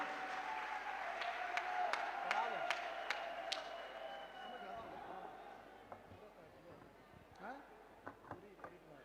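Audience applause for a poet at an all-India kavi sammelan in Bahal, a dense crowd clapping that swells early and thins toward the end, with chatter mixed in.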